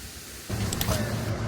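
A waterfall roars as a steady, broad rush of falling water that swells in loudness about halfway through and then holds evenly, with no clear talk over it.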